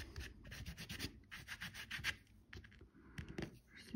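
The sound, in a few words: scrubbing with a brush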